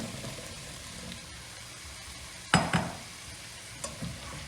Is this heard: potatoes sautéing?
yes